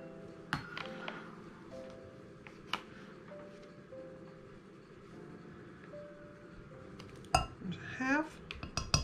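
Brown sugar is measured and stirred into melted butter in a kitchen, with scattered clinks of a measuring cup and spoon against a bowl and a steady scraping, under quiet kitchen background and some talk.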